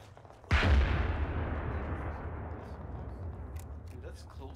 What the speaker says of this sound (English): That's close artillery on us.